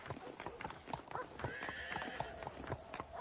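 Horses in the Red Dead Redemption video game clip-clop in a steady, close hoofbeat rhythm while one lets out a clear, drawn-out whinny midway, with game music and ambience underneath.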